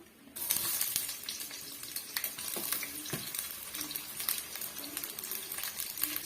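Fennel seeds and chopped onion fry in hot oil for a roadside-style parotta salna, giving a steady, close sizzle with a sharp onset, broken by light spatula scrapes and occasional ticks.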